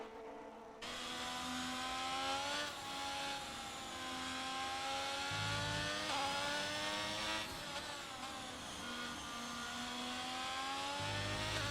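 Formula 1 car engine at Spa in a racing video game, a high, sharp whine climbing through repeated upshifts with short drops between, loud and close, alone without talk.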